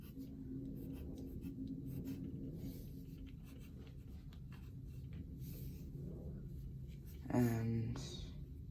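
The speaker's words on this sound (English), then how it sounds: "So we're just gonna be drawing his teeth." Faint pencil scratching on paper while dinosaur teeth are drawn, soft intermittent strokes with quiet background noise and a brief louder rustle near the end.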